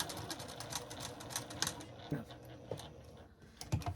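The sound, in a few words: sewing machine back-stitching a lined girls' dress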